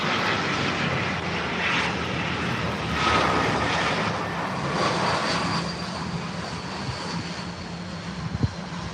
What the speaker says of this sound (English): We got a Iceland 757 with a really cool livery coming in.